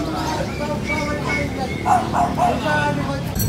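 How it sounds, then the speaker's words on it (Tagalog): A four-month-old Pomsky puppy, a Pomeranian and Husky mix, gives a run of short yips and small barks amid a busy pet market, with people talking over it. "Pomsky, Pomeranian Husky."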